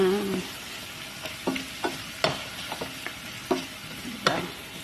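Food browning in a hot pan while being stirred, with repeated scraping and knocking strokes from a utensil over a steady frying sizzle, close and fairly loud, without talk.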